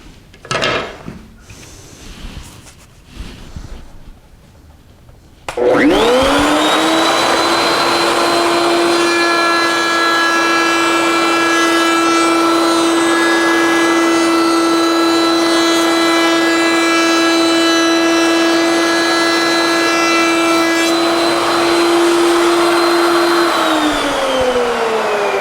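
A router fitted with a Roman ogee bit shapes a molding profile in quarter-inch-thick stock, spinning up to a loud, steady high whine that holds for about eighteen seconds before winding down, after some brief handling noise.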